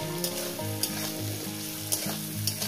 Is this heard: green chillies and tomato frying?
yes